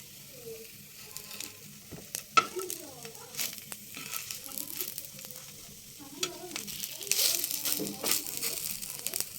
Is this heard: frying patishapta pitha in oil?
yes